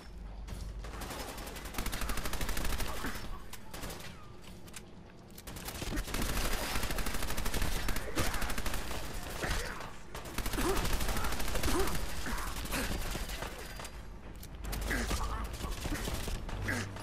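Sustained machine gun fire in the video game Fallout 4: dense, loud bursts of automatic shots lasting several seconds each, separated by brief lulls, with some mechanical clanks mixed in.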